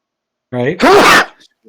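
A single sharp sneeze close to the microphone during a tabletop role-playing game session, with a brief voiced intake just before it.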